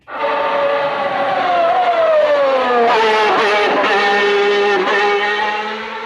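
A Formula One race car engine driven by Ayrton Senna screams at high revs, its pitch dipping and wavering as the throttle is modulated in a steady, loud, continuous whine.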